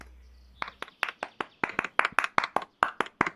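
Avatar clapping in the game Vircadia: about fifteen crisp, separate hand claps in a steady, slightly uneven rhythm, close and clear with no talk over them.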